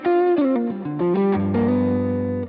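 Electric guitar played through a Grammatico GSG100 amp model in a Line 6 Helix, drive, bass, mids and treble at 5: a loud, distorted sustained melodic line of several notes, closing on a ringing low chord, with no talking.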